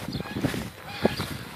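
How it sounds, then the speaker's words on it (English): Geese being chased by a dog give honking calls outdoors, with a few short, harsh honks standing out over rustling and a faint background murmur of voices. "We're going after some geese."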